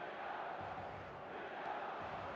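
A stadium crowd roars steadily in the eFootball video game, a dense, distant wash of voices that holds level throughout.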